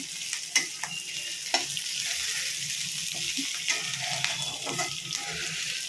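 Chopped onions fry and brown in a pan, a continuous sizzle broken by frequent sharp scrapes and taps of stirring, close and fairly loud, with no talking.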